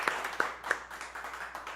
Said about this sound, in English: big round of applause for Billy 61 and everybody helped that